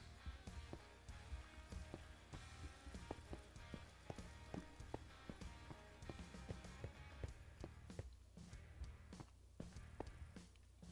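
Donkey hooves clip-clop in Minecraft, a quick regular stream of light taps going on without a break, fairly near, with no talk over them.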